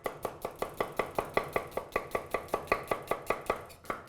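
A knife slices onions on a board for mutton tahri, around twenty crisp, evenly spaced cuts in a quick steady rhythm, close and clear with no talking.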